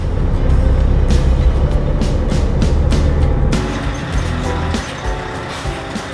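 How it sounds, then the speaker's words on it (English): Loud, close diesel rumble from a 2017 Scania S580 V8 truck as its rear axle lowers, with hissing air bursts over the engine before the sound eases slightly. "just switch it on, drop the rear axle and get hooked under this trailer"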